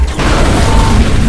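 A loud, dense explosive rumble from bombs blown up in Saints Row IV, a sustained booming roar with a sharp onset that fills the whole moment without any voices.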